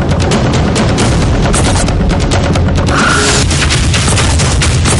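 A loud, dense burst of sharp cracks and booms during a robbery at a juice shop in Miraflores, continuous and harsh throughout, like rapid gunfire in a noisy outdoor setting.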